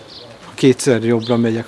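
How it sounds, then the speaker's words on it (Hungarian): Birds chirp and coo faintly in the background on a Budapest city street, partly masked by a person speaking Hungarian close by. "most is hallani a madarakat csiripelni"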